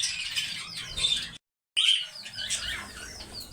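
A green parrot being caught squawks and chirps loudly at close range in harsh repeated bursts, broken by a brief silent gap, with some fluttering.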